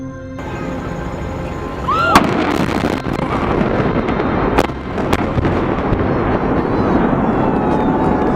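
Fireworks go off loudly and close by, with sharp bangs and crackling bursts over a dense, continuous roar of explosions that does not let up.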